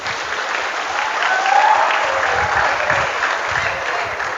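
An audience at a religious lecture breaks into applause, a steady full burst of clapping that builds slightly and carries on evenly throughout.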